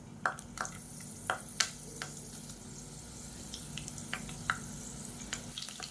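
Fennel seeds and curry leaves crackle in hot sesame oil in a cooker, with sharp scattered pops over a steady low sizzle.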